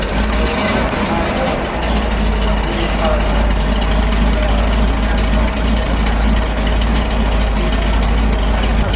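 A 1967 Pontiac Firebird convertible with a Ram Air 400 engine and four-speed idles loud and close with a deep, steady loping rumble, while a voice talks briefly over it.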